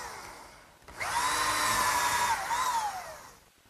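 A power drill drives screws into 1x10 pine shelves on a workbench garden bench project, one loud whirring burst of about two and a half seconds that dips in pitch midway, close up and with no talking.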